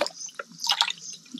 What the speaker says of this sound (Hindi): ओ भाई पानी डाल दियो उसमें एक बार।